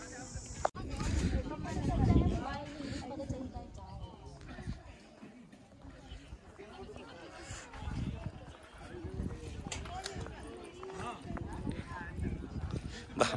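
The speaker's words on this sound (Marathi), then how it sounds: "इकडे बघू शकाल घोडे." Horses clip-clopping at a walk near the parking area at Kate's Point in Mahabaleshwar, a loose, uneven patter of hooves with people talking in the background.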